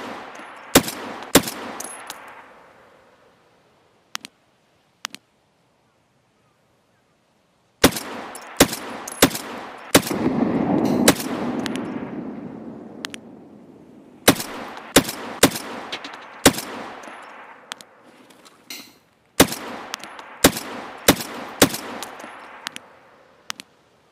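SR rifle firing in the video game Escape From Tarkov, sharp loud cracks in quick irregular bursts with short gaps, echoing tails and a few metallic clinks, mostly alone without talk.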